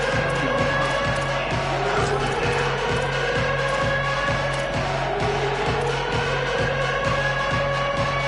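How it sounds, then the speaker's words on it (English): Football stadium crowd roaring steadily to rally the defense on third down in a game against Ole Miss, with a loud sustained wash of cheering and a rhythmic low pounding running underneath. "Crowd getting this defense whipped up on third down."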